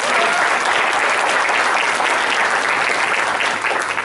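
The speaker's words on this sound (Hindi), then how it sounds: "आइए हम उनके लिए भी जोर से ताली बजाते हैं." An audience claps loudly and steadily, a dense, sustained round of applause from a sizeable crowd with no voices over it.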